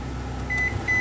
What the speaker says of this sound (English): microwave. Seems like it works there.